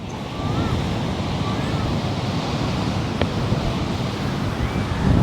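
Strong wind and pounding surf at Malupra beach in Thailand, a steady broadband roar of waves with gusts buffeting the microphone, continuous and loud throughout with no talking.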